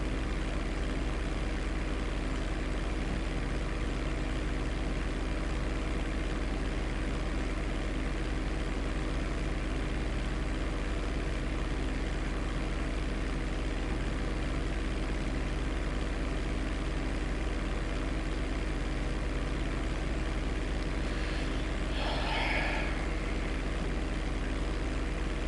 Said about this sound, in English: this plane is kind of slow.